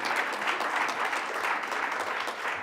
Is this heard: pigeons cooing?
no